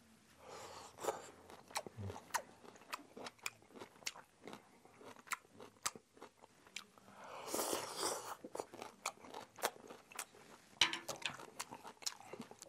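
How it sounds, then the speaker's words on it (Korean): Someone eats doenjang soup with shepherd's purse at close range: crisp bites, crunching and chewing come in irregular bursts, with soft clinks and scrapes of a spoon or bowl between them. "그냥 바로 먹어보도록 하겠습니다"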